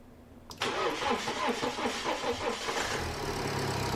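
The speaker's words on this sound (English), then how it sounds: "the car is ready for its first start" A BMW engine fires up after a turbo rebuild, a short cranking burst catching into a steady, close idle.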